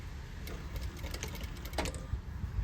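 A sewing machine stitching a convex curve with a back stitch runs in a steady, quiet mechanical whir with light rapid ticking, close and alone without speech.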